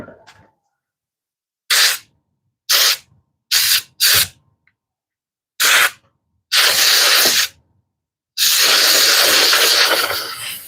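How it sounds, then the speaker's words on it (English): Short loud bursts of compressed air hissing in quick pulses onto a handmade wooden spoon knife, then two longer sustained blasts, close and sharp with silence between. "let's spray the air on this thing"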